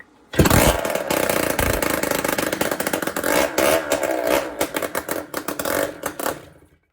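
A 1978 Yamaha DT175E two-stroke motorcycle engine fires up on starter fluid and runs loud and close, revving raggedly with uneven bursts for several seconds before sputtering out.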